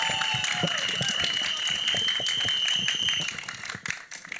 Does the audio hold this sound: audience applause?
yes